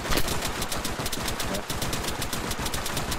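Rapid sustained automatic gunfire from Arma 3 rattles in a dense, unbroken stream of shots, loud and close throughout the short stretch.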